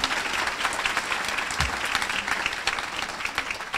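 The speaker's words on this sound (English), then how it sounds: "I give yourselves a round of applause." An audience at a celebration marking the 98th anniversary of women's right to vote breaks into steady, sustained applause, a dense wash of clapping that fills the whole stretch without fading.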